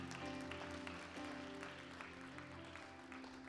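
A church congregation applauding during a French-language sermon, a steady dense wash of clapping holding at even volume throughout, with no speech over it.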